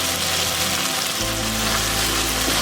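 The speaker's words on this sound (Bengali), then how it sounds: "আমি এর সাথে 2 টেবিল চামচ পরিমাণ সাদা তেল অ্যাড করতেছি।" White cooking oil sizzling in a hot pan with chicken for fried rice, a loud, steady, close hiss that runs unbroken throughout.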